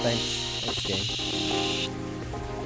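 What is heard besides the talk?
pouring rain sound effect in a game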